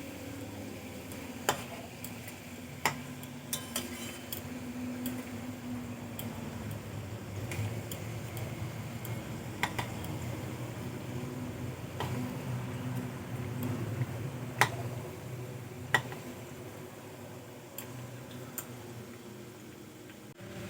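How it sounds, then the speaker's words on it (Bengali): Gaja, sweets made from flour and sugar, are fried and stirred in hot oil: a soft, steady sizzle with irregular sharp clicks and taps of a utensil against the pan, close and fairly quiet. "এইভাবে নাড়াচাড়া করে আমি গজাগুলো ভেজে নেব"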